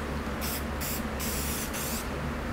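Several short bursts from a spray bottle wet wire-brushed metal parts, each hissing spritz close and distinct, falling into an uneven rhythm of five or so pulses.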